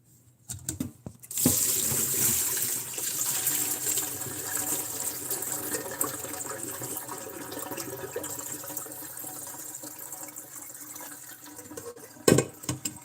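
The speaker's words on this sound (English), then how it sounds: "I'm carrying this pan of water. You don't want to splash it out" Water sloshing and splashing in a metal pan carried by hand, a steady close watery patter lasting throughout, with a brief louder splash near the end.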